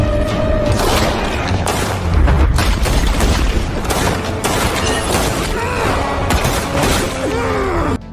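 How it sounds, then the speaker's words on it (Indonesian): Gunfire exchange in a Jean-Claude Van Damme revenge action film: dense, loud bursts of booming shots and shattering impacts crowd together almost without pause, with rumbling hits underneath. "terjadilah aksi baku tembak"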